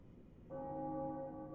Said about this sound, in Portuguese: Agora bateu o sino.